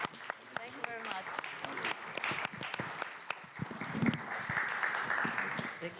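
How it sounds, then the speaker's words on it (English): Conference audience applauding panelists, a lively spread of many individual claps with sharp distinct hits, building and continuing steadily with a faint murmur of voices beneath. "Can I just ask for applause to our panelists?"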